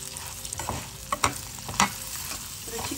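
Curd rice (daddojanam) with grated ginger is being stirred, apparently over a sizzling tempering. A soft, steady sizzle runs throughout, with a few sharp spoon scrapes and clinks in short bursts.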